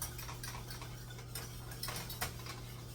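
Macaroni and cheese sauce being whisked in a pot, heard as a steady close scraping and metallic clinking of the whisk against the pot over a constant low hum, with no talking.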